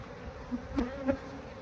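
Honey bees buzz softly around an open hive during a full inspection, with a low continuous drone and a few brief louder passes of individual bees close by.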